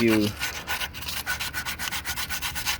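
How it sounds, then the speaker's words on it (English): Sandpaper rubs a car battery terminal in quick, even back-and-forth strokes, close and fairly quiet, about a dozen rhythmic scrapes with no voices. "You just continue that around with the rest of the sandpaper and get the whole thing."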